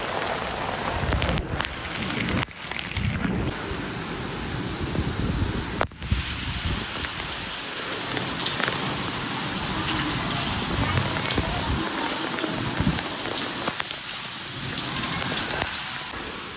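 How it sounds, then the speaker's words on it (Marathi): Heavy rain pours down steadily and loudly throughout, a dense close hiss of drops striking surfaces, with a few brief thumps and knocks near the start. "उय्यो उय्यो काय पडते रे, काय पाऊस"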